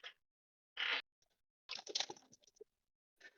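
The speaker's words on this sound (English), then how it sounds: "I can hear the clapping of the keyboard" Someone types on a computer keyboard close by, short bursts of rapid clacking keystrokes separated by brief silences.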